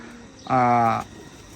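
A single clear, tonal coo from a Ferozpuri pigeon, brief and close, rising out of a quiet loft background.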